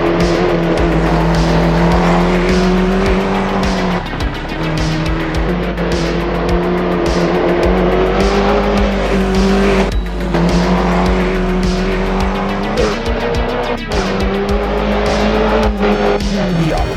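A loud, continuous rally car engine in Assetto Corsa Rally drones at high revs throughout, with shifting pitch as it accelerates and brief tire squeals.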